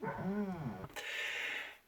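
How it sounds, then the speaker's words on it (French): Dogs bark nearby: a drawn-out, wavering yelp or howl comes first, then a sharp bark, followed by a higher, strained yap that fades out. "Chier ces chiens."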